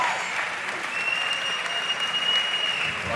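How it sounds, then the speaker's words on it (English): Crowd at the 2005 Racquetball US Open semifinals applauding, a dense, steady wash of clapping filling the hall for a few seconds. "and the crowd loves it."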